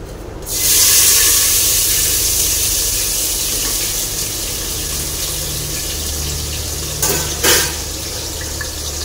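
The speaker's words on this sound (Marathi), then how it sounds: "तेल गरम झालेलं आहे, ह्याच्यामध्ये ॲड करते मी आता कांदा" Chopped onion dropped into hot oil in a pan, bursting into a loud close sizzle that holds steady and slowly eases, with a brief clatter near the end.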